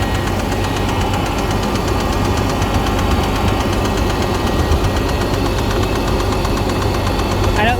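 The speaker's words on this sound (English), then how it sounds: "So it comes with this motor noise, which Matt and I have thought is..." 2002 BMW 325i engine running with a steady, continuous knocking motor noise, a dense low rumble with a fast repeating tap heard up close, with no break throughout.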